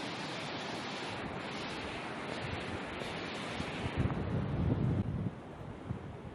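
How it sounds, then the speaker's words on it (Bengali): Steady roar of sea surf breaking on Cox's Bazar beach on the Bay of Bengal, continuous wash with wind buffeting the microphone, swelling louder near the end. "নীল জলরাশি আর সুসু গর্জন"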